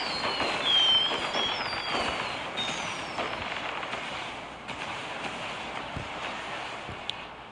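Bombs exploding across a map in a video game, a swelling roar of blasts early on that fades into a long rumbling, crackling wash, with a sharp click near the end.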